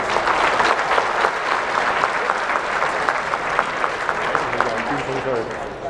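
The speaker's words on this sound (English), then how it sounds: "let's get Anna's team and all the individuals a great round of applause" Charity gala audience applause at a hospital foundation ball, dense continuous clapping from a large crowd with some voices mixed in, holding steady throughout.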